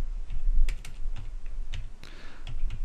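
Fingers tap out data entry on a computer keyboard in a steady run of close, crisp keystrokes with short pauses, no voices present.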